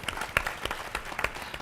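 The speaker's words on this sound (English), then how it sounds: "Give a round of applause for Dr." Audience applause at a symposium town hall, brisk scattered clapping from a seated crowd, moderately loud and fairly close throughout.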